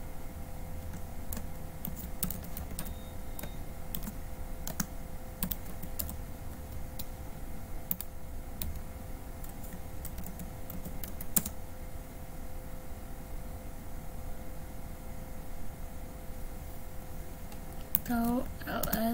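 Linux commands typed on a computer keyboard in an Ubuntu 20.04 terminal, heard as a steady stream of close, crisp keystroke clicks over a low background hum, with a brief louder flurry near the end.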